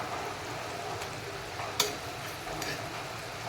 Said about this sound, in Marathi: आता आपण यामध्ये जे आपण केलेले वाटण आहे ते टाकणार आहोत